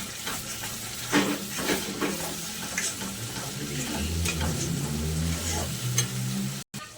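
Chilli powder and Kashmiri chilli powder are being stirred and sautéed together in a pan for a spinach kofta curry. The sizzle and scraping are steady and close, with no voices.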